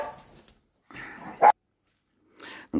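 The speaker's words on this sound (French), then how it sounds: "Pardon pour les petits chiens." Small dogs bark and yip in a few short bursts, close and indoors, with a sharp louder bark standing out and quiet gaps between.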